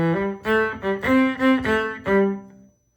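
An electric cello plays a short phrase of clean, sustained bowed notes, then the last note fades into silence.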